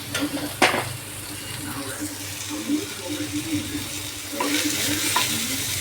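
Onions or aromatics sautéing in a pan before prawns are added, a steady sizzle with stirring scrapes and a couple of sharp utensil clinks, close and moderately loud.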